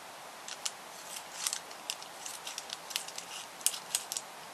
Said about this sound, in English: go around and cut fairly close to it like that